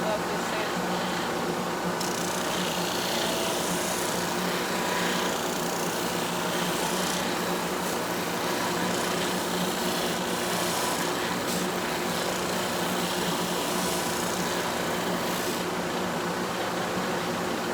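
A disc sander runs steadily with its dust collection gate open, giving a continuous broadband whir and motor hum throughout, with no talk and no clear pauses.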